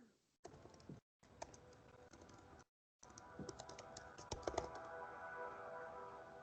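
Rapid typing on a computer keyboard, a steady patter of close, light key clicks in bursts separated by brief pauses, moderately quiet with no talking over it.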